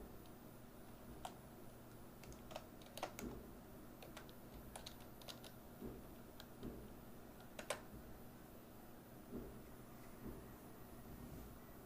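Computer keyboard keys being tapped while typing out Python code, giving irregular bursts of soft, close clicks with short pauses over a faint steady background hum.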